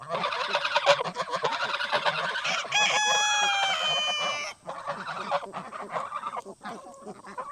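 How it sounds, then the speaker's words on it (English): Geese honk loudly and continuously in a noisy flock, with overlapping harsh calls and a drawn-out nasal honk in the middle. "I love geese."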